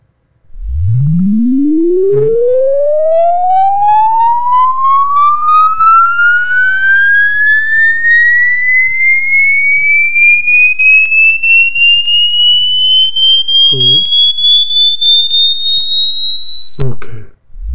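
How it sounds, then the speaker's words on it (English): A pure test tone sweeps smoothly upward from low bass to a high pitch over about sixteen seconds, steady and loud throughout, with faint harmonics above it and a brief click near the end as it cuts off. "this one is 16 seconds long, and from low frequency to high frequency"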